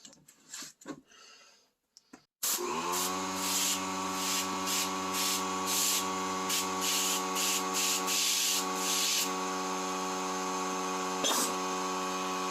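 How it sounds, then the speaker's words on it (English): Compressed air at about 100 PSI from a compressor is blown into a seized brake caliper. After a few faint knocks, a loud, steady hiss with a droning hum sets in, pulsing in bursts. "I'm gonna take the max PSI on my compressor, somewhere around 100 PSI."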